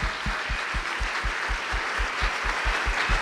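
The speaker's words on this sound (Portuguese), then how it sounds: "Can we give my wife a big clap" An audience at a church service claps in a steady rhythmic beat, sharp unison claps repeating about four times a second, loud and even across the room with no talking over it.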